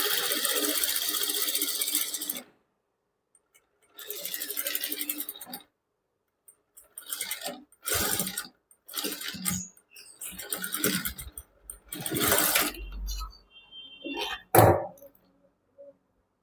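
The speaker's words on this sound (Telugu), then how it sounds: "ఇలాగా ఈ చివరికి కుట్టు అన్నది వేసుకోవాలి." Sewing machine stitching a prince-cut blouse, its needle chattering in bursts of rapid clatter that stop and start repeatedly, with short pauses and small handling clicks between runs.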